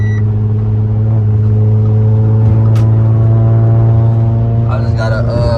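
A steady, loud low exhaust drone fills a car cabin while driving, holding constant throughout with a brief clatter near the end.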